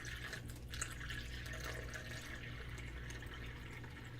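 Water is poured into a machine's reservoir, giving a steady, faint trickle and splash that runs continuously with no voices.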